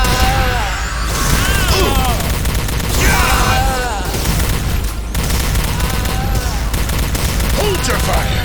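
Rapid energy-weapon gunfire crackles in bursts through a firefight aboard a starship deck in Star Trek: Elite Force II, loud and continuous, with shouted voices mixed in among the shots.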